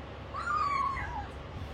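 A kitten cries with a clear, drawn-out meow while munching dry kitten food, close by and alone over a faint background hiss.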